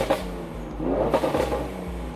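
A Mercedes-AMG C43 engine revved in neutral while the car rolls, quick rising and falling revs over a low running drone, close and moderately loud with no talking.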